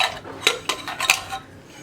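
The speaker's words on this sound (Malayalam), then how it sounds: "ഇനി നമുക്ക് കുക്കർ തുറക്കാം." Lid of a pressure cooker being opened after cooking lentils and potatoes: a few sharp metallic clanks and scrapes of the lid and pot, close and fairly quiet, with no talk.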